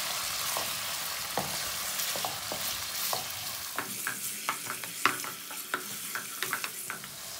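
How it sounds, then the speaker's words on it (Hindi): Beef pieces stir-fried in a karahi for a Bakra Eid qorma, with a steady background sizzle and sharp spoon scrapes and stirring clatter that grow busier toward the end, close and fairly quiet, no talking. "कढ़ाई में शामिल कर देंगे और गोश्त को 5 मिनट तक पका लेंगे"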